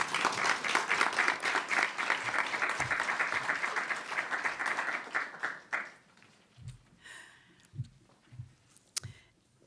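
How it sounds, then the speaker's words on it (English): Audience at a Baystate Health Faces of Faith event applauding as a speaker takes the podium, sustained steady clapping for about six seconds, then fading to a few scattered claps and soft knocks near a microphone. "I invite you to stand up and applaud and yell and scream as she takes the podium"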